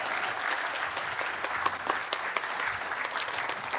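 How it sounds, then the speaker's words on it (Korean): Church congregation claps after a baptism during a Sunday worship service, a full, even round of applause sustained for nearly four seconds with no talk over it. "큰 박수로 영광 올려드려 주셨으면 좋겠습니다"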